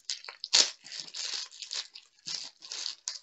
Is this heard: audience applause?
no